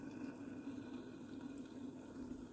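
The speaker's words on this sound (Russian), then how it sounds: "аккуратненько заливаем сливы" Brine is poured steadily over plums packed in a jar, a soft continuous liquid stream with no voices.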